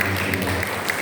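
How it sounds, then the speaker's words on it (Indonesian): Church congregation clapping during a Sunday service, a dense, loud, continuous burst of applause heard briefly and close. "Berikan tepuk tangan yang paling"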